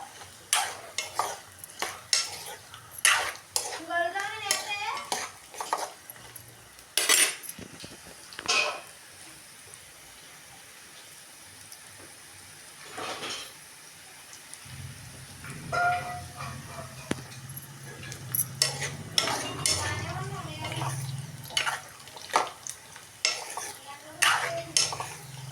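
Moong dal vadiyalu frying in a pan for curry, with stirring, clinks of a utensil against the pan and a low sizzle rising in the second half, close and intermittent.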